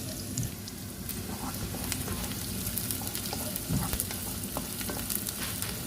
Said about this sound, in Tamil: வெங்காயத்தை இதில் லைட்டாக தாளித்து எடுத்துட்டு